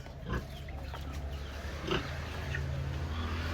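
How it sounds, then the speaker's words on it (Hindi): A big pig grunts and snorts nearby at an animal site in Bali, with a couple of louder grunting bursts rising over a steady low rumble of background noise. "भाई लोग आपको एक सूअर दिखाते हैं, बड़े वाला।"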